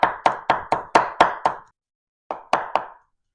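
A knife whacks down by hand onto chicken for Southern Lao goi, old-fashioned chopping with no machine: a quick run of seven sharp, evenly spaced chops, a pause, then three more, close and loud with no talking.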